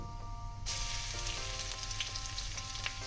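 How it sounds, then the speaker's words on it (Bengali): Crushed garlic hits hot oil in a tempering for pumpkin-leaf dal, bursting into a bright sizzle after a quieter moment, then crackling steadily with a few sharp pops, fairly soft and with no talking. "এবার আমি এর মধ্যে দিয়ে দেব থেতো করে রাখা রসুন।"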